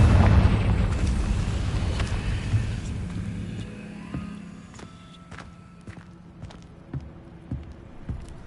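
The Confringo fire spell in Hogwarts Legacy bursts into a loud rumbling explosion at the start, then fades slowly over several seconds. Soft footsteps and small clicks follow as it dies away.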